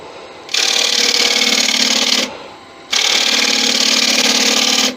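A woodturning cutting tool slices into punky, soft decayed wood in two long, loud, rasping passes, separated by a short quieter gap.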